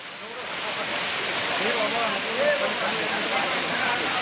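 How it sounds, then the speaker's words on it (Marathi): Steady, broadband roar of a waterfall pouring down in a hillside setting, loud and close, continuous for the whole stretch. "कोसळणारा धबधबा"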